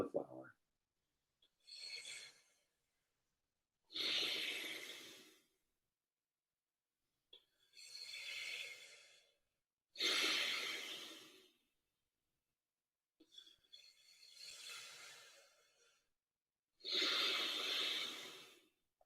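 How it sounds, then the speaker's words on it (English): Deep yoga breathing, slow, audible inhales and exhales repeated about six times with silent pauses between, close to the mic and breathy. "Feel the whole body inflate, stomach, chest, and empty all of that breath out into the flower."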